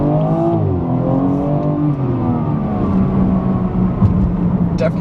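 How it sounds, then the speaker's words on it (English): A 2017 BMW 340i with a tuning chip and aftermarket exhaust revs loudly up close, its engine note climbing and falling in pitch in a throaty, sustained roar. "I love the engine note of these BMWs."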